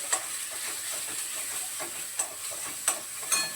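Peas and salt for a paneer curry sauté in a pan with a soft, steady sizzle and hiss, broken by a few light clinks of a spoon stirring against the metal.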